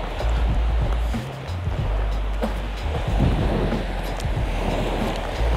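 Sea waves washing against the shore nearby, a steady rushing surf mixed with wind buffeting the microphone, with no talk.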